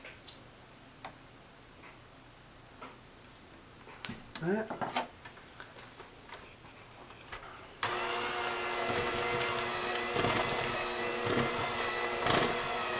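An electric hand mixer with beaters runs in peach streusel muffin batter, switching on as a loud, steady motor whine after quieter clattering of bowl and utensils with some speech.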